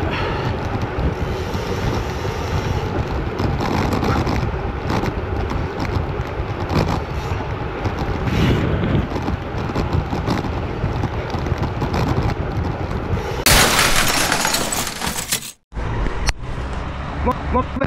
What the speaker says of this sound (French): En plus il y a le vent dans la gueule là